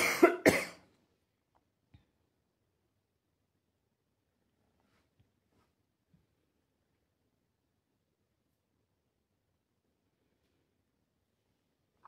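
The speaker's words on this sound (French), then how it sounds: "je vais tousser." Two or three quick, harsh coughs up close at the start, then near silence with only a few faint clicks.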